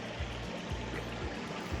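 Steady broadband rush of a river flowing beside a campsite in the Blue Mountains, a continuous close water wash with faint low thumps every half second, no voices.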